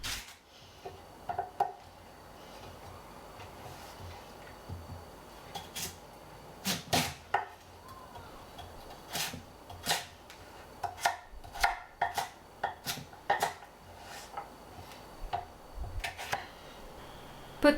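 A knife cuts sweet potato into small cubes on a board, giving irregular crisp chops that come in quick bursts and short pauses, close and fairly quiet, with no talking.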